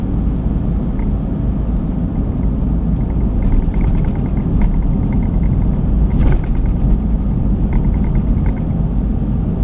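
A 2012 Smart Fortwo coupe Passion mhd with Softouch gearbox drives along a very bumpy road, a loud steady low cabin rumble of engine and tyres with occasional knocks from the uneven surface.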